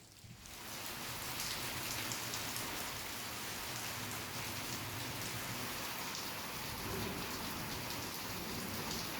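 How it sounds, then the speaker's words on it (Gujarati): Heavy rain pours down late at night in Mehsana, Gujarat, a dense, steady hiss and patter of drops on surfaces that starts quickly and continues evenly, with no voices. "મોડી રાતના દ્રશ્યો છે જ્યાં વરસાદ ખાબક્યો"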